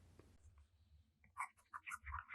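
A Pelikan M205 Duo Highlighter fountain pen with a double broad nib writes on a reporter pad, making faint, close scratchy strokes in short bursts after a quiet start.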